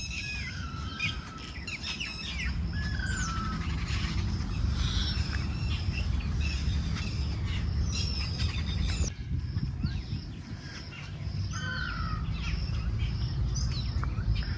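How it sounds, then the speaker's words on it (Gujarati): A flock of sparrows in a tree at a Gujarati village farm chatters continuously, with many overlapping high chirps and tweets close by over a low background hum and no talking. "ચકલાનો કલબલાટ જોઈ લો, સાંભળો તમે ખાલી એમ, ખાલી અવાજ સાંભળો, મન ખુશ થઈ જાય"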